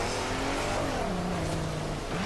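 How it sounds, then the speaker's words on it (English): A car in Forza Horizon 4 drives through a shallow river, its engine droning and shifting pitch steadily with continuous rushing noise throughout. "We'll just drive through the river."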